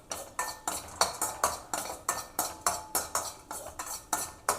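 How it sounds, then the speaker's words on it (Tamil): Cashews and raisins roasting in ghee in a pan for payasam, heard as a steady series of about sixteen sharp clinks and scrapes of a metal spoon against the pan, close and fairly loud, with no voices. "அதிலே கொஞ்சம் கூட நெய் விட்டுட்டு நம்ம கேஷ்யூலாம் வறுக்க போகிறோம்."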